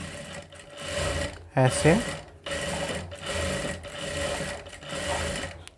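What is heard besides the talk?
sewing machine stitching a boat neck blouse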